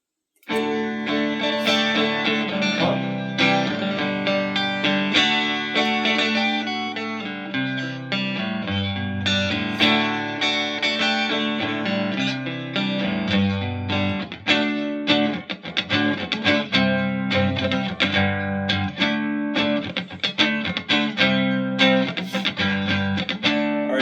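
A loud, overdriven electric guitar plays continuously through a StageRight 15 tube amp fitted with new boutique tubes, strummed chords and picked notes with a thick, saturated tone and no talking.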